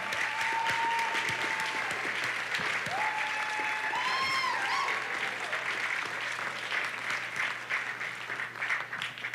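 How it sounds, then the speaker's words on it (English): Warm audience applause for graduating seniors at a high school band spring concert, steady clapping throughout with a few whistles and cheers rising above it, fading a little near the end. "A round of applause for our seniors!"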